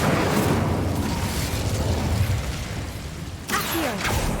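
A fire spell cast in the Hogwarts Legacy video game erupts in a loud, dense roaring whoosh of flame that fills the moment, followed by a brief sharp burst near the end.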